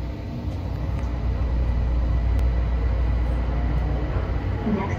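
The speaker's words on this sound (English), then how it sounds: "This train is departing." An airport people mover train at O'Hare rumbles steadily as it pulls away, a continuous low mechanical roar with faint rattles, no voices.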